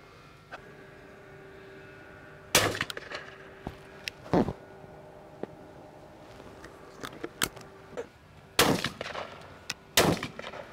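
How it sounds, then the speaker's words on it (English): Shotgun fire while shooting crows over maize in open countryside: several sharp, distant-sounding cracks spaced a few seconds apart, two close together near the end, over quiet outdoor background with faint clicks. "Nice shot, Maxwell."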